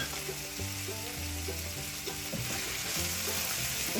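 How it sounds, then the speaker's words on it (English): Garlic sizzling in a hot pan for pepper steak, giving a steady, dense crackle that holds at an even level throughout, close by and without speech, with a faint tonal hum underneath. "Put the rest of our garlic in here. We're just going to let that cook there for just a minute"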